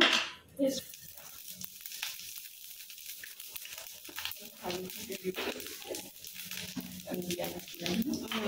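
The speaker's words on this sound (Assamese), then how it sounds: "তেলটো অকণ পূৰা গৰম হ'ব লাগিব হ'বনে আৰু শুকান জলকীয়া পাঁচফোৰণ" Dry red chillies and panch phoron crackle and sizzle in hot oil during Assamese home cooking, a steady frying hiss with a voice talking over it throughout.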